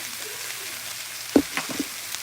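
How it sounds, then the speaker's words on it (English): Vegetables sautéing in a pan give a soft, steady sizzle and hiss, broken by a few brief clinks or stirring knocks near the end, fairly quiet and close with no talk. "While I saute my vegetables"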